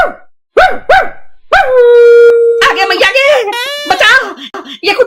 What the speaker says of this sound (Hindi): ये कुत्ता क्या बोल रहा है?